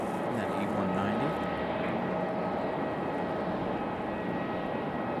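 A JetBlue Embraer E190 jet at Raleigh-Durham International Airport, a continuous engine roar with a shifting whine that persists throughout, moderately loud, with a voice talking over it.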